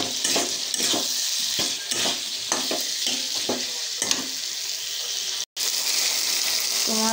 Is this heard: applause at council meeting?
no